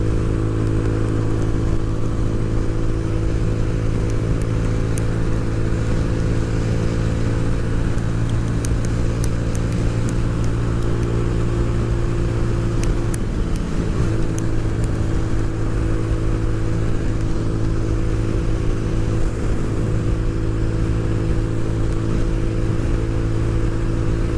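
A motorcycle engine runs loud and close near a beach, holding a steady, throbbing drone for the whole stretch with only slight shifts in pitch and no clear throttle surges.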